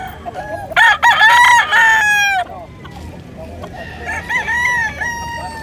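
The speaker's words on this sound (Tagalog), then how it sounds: "Manok ko." Roosters at a market crow loudly and close, one long strained call then another overlapping crow, over a busy background of chatter and further fowl calls.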